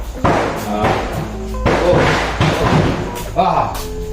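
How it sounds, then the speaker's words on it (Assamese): A few dull firecracker bangs burst at irregular intervals while people talk nearby. "দেৱালী যোৱাই নাই ফটকা ফুটাই আছে"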